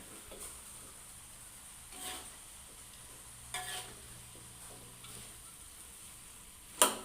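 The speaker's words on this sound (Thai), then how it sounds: "ผัดใส่มะเขือ ค่ะมื้อนี้ ใส่มะเขือเปาะ" Pea eggplants are stir-fried for a Thai basil stir-fry, heard as a quiet background sizzle broken by several short stirring scrapes and a sharp clatter near the end.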